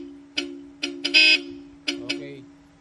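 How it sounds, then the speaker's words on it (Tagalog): A Mitsubishi Xpander Cross stock horn honks in five short blasts, close by, with the middle one held a bit longer; steady engine hum underneath. "Yan, yung stock horn ni sir yan."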